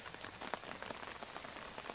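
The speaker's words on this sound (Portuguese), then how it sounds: "graças a Deus tá chovendo." Rain pattering steadily on succulent plants outdoors, a dense soft hiss of drops with occasional sharper taps, fairly faint and with no voices.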